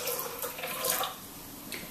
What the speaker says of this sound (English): So here's the boiling water. You just top that up to